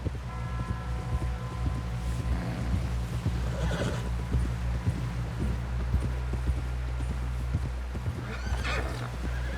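Horse hooves clip-clop at a steady riding pace in the Western video game Red Dead Redemption, with a horse whinnying, under a low constant rumble.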